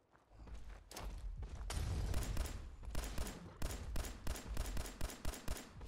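Gunfire in Fallout 4, a string of quick sharp shots that start faint, build into a dense burst and continue as rapid, evenly spaced cracks at moderate distance.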